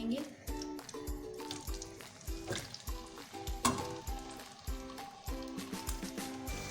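Marinated chicken sizzles and hisses in hot ghee in a karahi for an Afghani tikka karahi, a steady frying crackle running beneath louder rhythmic background music.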